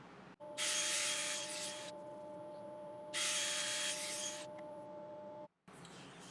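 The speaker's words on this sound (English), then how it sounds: "that's the piece all sanded. I sanded up to 400 grit again" A turned African mahogany piece is sanded on the lathe up to 400 grit, two long bursts of loud, hissing abrasive rubbing over a steady motor hum, separated by a short pause.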